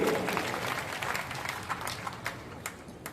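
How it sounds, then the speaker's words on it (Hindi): A large crowd at a public event with Madhya Pradesh chief minister Mohan Yadav in Chhatarpur claps loudly and steadily, a dense wash of applause that gradually tapers with a few sharper claps near the end. "तो जोरदार ताली बजाओ युवा वर्ग के लिए भी"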